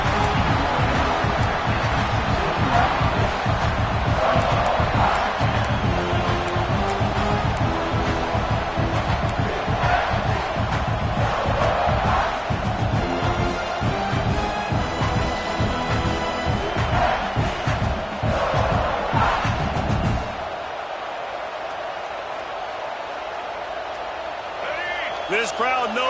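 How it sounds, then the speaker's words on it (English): A big college football stadium crowd at a Gators playoff game roars continuously with loud cheering and chanting under a commentator's voice, then drops off sharply near the end. "This crowd knows they have to bring it in big moments"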